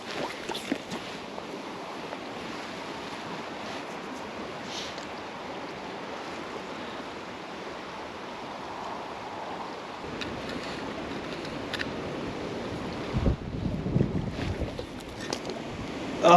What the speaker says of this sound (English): If that wind would go away.